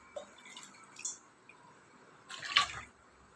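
Water and a ground paste are poured into tamarind water for pani puri, giving soft liquid splashes and drips with a louder wet pour near the end, close by and without talk.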